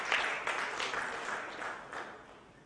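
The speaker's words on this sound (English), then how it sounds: "Please welcome him with a round of applause." Audience applause at a ports summit welcoming the deputy chairman of JNPT to the stage, a fairly faint, steady patter of many hands in a hall, tapering slightly toward the end.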